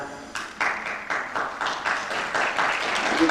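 An audience claps in a run of rhythmic, fairly loud, close bursts that keep going steadily, with no voices heard over them.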